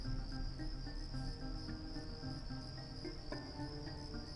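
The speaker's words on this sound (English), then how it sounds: "with some very loud crickets." Very loud crickets chirp steadily and close in a Deus Ex game level, a dense continuous insect drone with faint ambient game sounds beneath and no voices.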